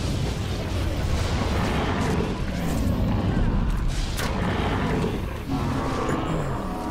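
Bombs explode during a boss fight in the video game Star Wars: The Old Republic, a dense, loud rumbling wash of blasts and effects that carries on without a break, with voices talking over it.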